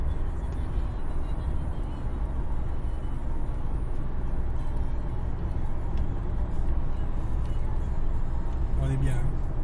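A Jaguar XJ8 V8 Sovereign automatic cruising on the road, with a steady low engine and tyre rumble heard from inside the car, and a voice talking over it.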